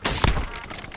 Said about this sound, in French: J'essuie des tirs.